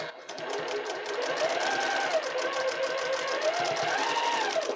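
A sewing machine runs steadily while stitching a quilt, a fast, even mechanical whir with a rapid needle rhythm, close and moderately loud, with a voice faintly underneath.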